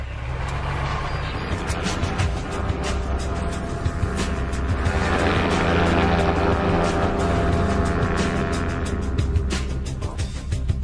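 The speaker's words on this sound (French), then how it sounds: "L'équipe décide donc de survoler la région à basse altitude." An ultralight aircraft flies low over the region, its steady engine drone loud and continuous across the whole stretch, with broadband rumble and no voices.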